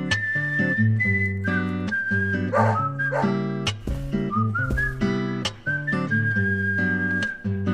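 Willie the dog barks and whimpers in Deadly Premonition, a series of short, close yips and barks over steady, loud game music with no talking.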